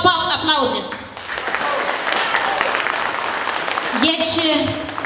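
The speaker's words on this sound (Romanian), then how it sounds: "Vreau aplauze." Audience applause at a Men's Day celebration in Satul Nou village swells into steady, dense clapping for a few seconds, with a voice speaking just before it begins and again as it tapers.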